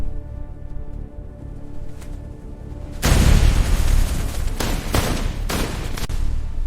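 A sudden loud grenade blast erupts after a tense rumbling lull, followed by a sustained roar and several sharp cracks like gunfire.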